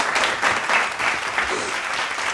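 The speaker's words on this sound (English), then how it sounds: "give the fucking nose a round of applause" A round of applause for a person's newly operated nose, steady dense clapping from a small group, fairly close, with faint cheering mixed in.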